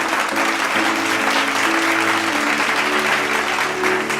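A church congregation claps and cheers in acclamation of the Lord, a steady wash of applause sustained throughout with a faint musical tone underneath.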